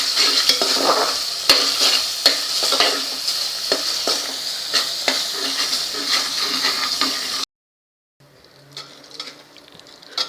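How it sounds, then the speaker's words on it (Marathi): Masala for stuffed eggplant (bharleli vangi) being stirred and fried in oil, a steady close sizzle with repeated scraping stir strokes, cutting out briefly before resuming more quietly. "बघा इथे आपला मसाला छान परतला जातोय"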